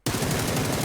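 Sustained automatic gunfire from PUBG, a rapid unbroken stream of loud close shots that starts abruptly and runs to the end without pause.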